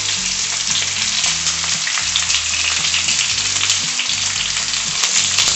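Chilli and curry leaves sizzle and spit in hot oil, a loud, continuous crackling fry close by with steady bubbling underneath and no voices.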